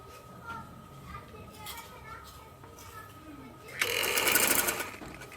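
Sewing machine stitching the fabric of a dhoti shalwar: a short, busy whirring burst near the end, following a stretch of quiet background chatter and children's voices.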